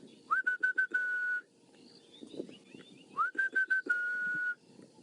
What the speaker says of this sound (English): I'm pretty sure I heard an orange-breasted bushshrike that was going